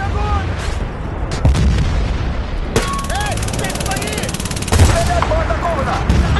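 Rapid gunfire and explosive bursts from a Battlefield: Bad Company 2 online match ring out steadily, with louder clusters of shots, while someone talks over the action.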